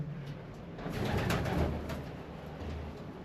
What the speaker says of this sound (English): I think this is just a place for pigeons to chill out.